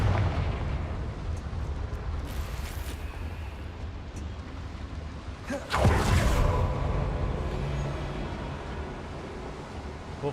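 A Confringo fire spell bursts in Hogwarts Legacy as a sudden booming explosion partway through, breaking over a rumbling background of game sound effects.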